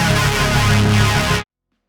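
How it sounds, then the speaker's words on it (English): Mono synth pushed through an amplifier, giving a dense, gritty, aggressive sustained tone; loud and alone, then cutting off cleanly. "we're taking this initial synth and we're throwing it into an amplifier"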